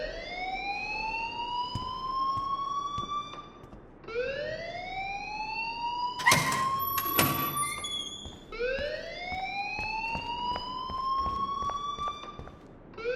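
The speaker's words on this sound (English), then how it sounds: "please turn off that alarm since that's your job" A school alarm wails in the video game Life Is Strange, rising electronic siren sweeps repeating about every four seconds, loud and continuous, with a sharp bell-like burst in the middle.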